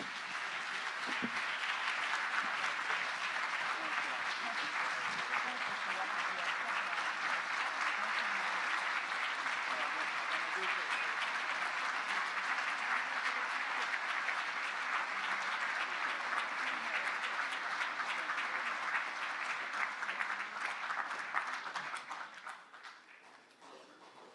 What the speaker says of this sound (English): Let's give him one more round of applause, please.